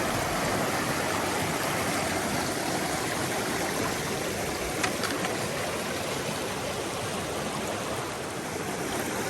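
A stream flowing at a water crossing on the Ozark Highlands Trail, a steady broadband rush of moving water that holds even and fairly close throughout, with no talking.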